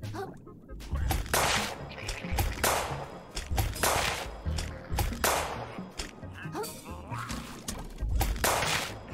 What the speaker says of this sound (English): I'm busy shooting.